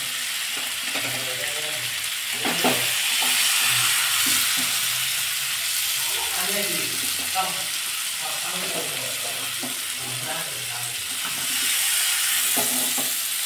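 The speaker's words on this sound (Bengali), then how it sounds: "এখন ভালো করে নেড়ে চেড়ে নেব।" Dal with sambar stirred in a pot, a steady soft sizzle and bubbling with intermittent stirring scrapes, close by, with faint voice-like tones in the background.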